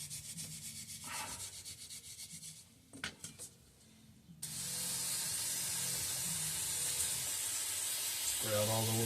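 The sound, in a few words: spraying cleaner into Walbro fuel pump holes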